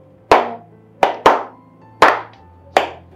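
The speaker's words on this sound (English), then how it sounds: "Let's give the wonderful prophetess a round of applause" Five sharp, separate claps ring out close by in an uneven rhythm, each a crisp hand smack with a short room echo, from a small group honoring a prophetess, with no talking.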